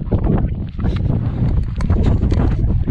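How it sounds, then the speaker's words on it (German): A light wind blows across the microphone while hiking the Pacific Crest Trail, making a steady, loud, broadband rumble and buffeting that lasts throughout without pause. "leichter Wind"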